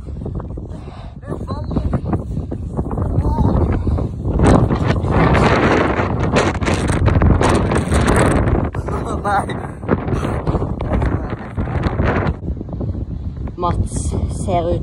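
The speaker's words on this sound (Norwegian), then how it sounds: "Vinden blåser hardt." Strong wind buffets and roars across the microphone in loud, continuous gusts, with a voice speaking underneath.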